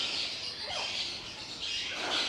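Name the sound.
small loud bird calling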